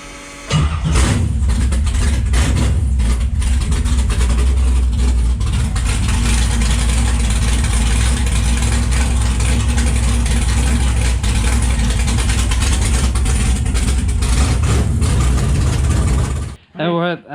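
An alcohol-fueled drag racing car engine idles with a loud, steady, close rumble for about sixteen seconds before cutting off abruptly.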